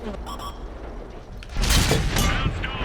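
A tank cannon round slams into and ricochets off a Leopard 1's well-angled turret in a T-34 tank game: a sudden loud, close blast bursts out midway and rumbles on, following a quieter stretch of distant battle noise.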